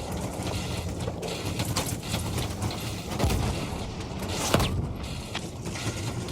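A tank being repaired with a wrench in Battlefield 1 gives off steady mechanical clanking and ratcheting over a dense, noisy wartime backdrop, with a few sharper knocks standing out near the middle.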